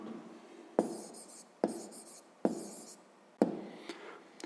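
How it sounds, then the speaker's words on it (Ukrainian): Pen writing an answer by hand on paper in four short strokes or bursts, each starting with a tap, close and fairly quiet, with no talking. "Ну що ж, записуємо відповідь."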